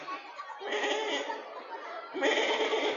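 A preacher's voice imitates a goat crying, drawn-out wavering bleats in two long stretches, close and fairly loud with faint background murmur.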